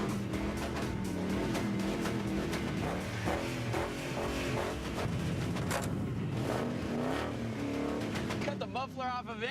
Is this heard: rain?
no